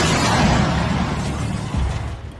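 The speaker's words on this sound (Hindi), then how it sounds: "तो धमाका।" A loud, sustained explosion roar, a broad rumbling blast that holds steady before slowly easing off, with no talking.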